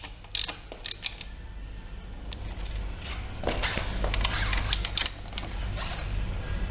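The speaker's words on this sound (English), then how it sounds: "using a ratchet or wrench, right, go and loosen up the rear wheel" A ratchet or wrench clicks and creaks while loosening the rear wheel nuts of an Inokim electric scooter, with sharp metallic ticks and bursts of clicking over a low background hum.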